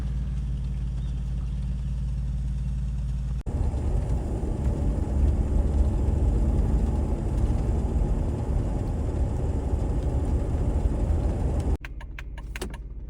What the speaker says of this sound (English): I took off in the Jeep afterwards and videoed the route